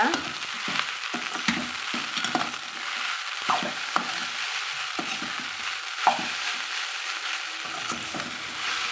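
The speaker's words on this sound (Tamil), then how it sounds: "இட்லியை சேர்த்துக்கலாங்க இது கூட சேர்த்துட்டு நல்லா கலந்து விட்டுக்கலாங்க" Leftover idli pieces are stirred into upma in a frying pan, with repeated scraping and clacking of a spoon over a soft, continuous sizzle, close and with no voices.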